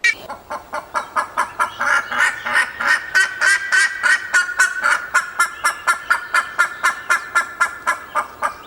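A bandurria, the Patagonian black-faced ibis, gives a rapid run of loud, harsh, honking calls in a quick regular rhythm that continues throughout, close and clear with no talk.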